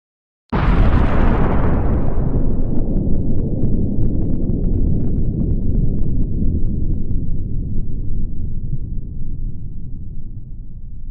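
A revolver fires with a simulated finger laid beside the cylinder gap: one sharp, loud blast at the start, followed by a long, dense, ringing roar that decays slowly over about ten seconds.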